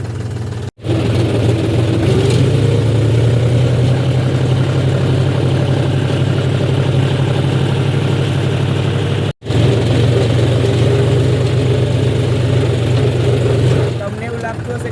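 A John Deere tractor engine runs loud and close with a steady low diesel drone, briefly cutting out twice before resuming, settling into an even idle that fades slightly at the end.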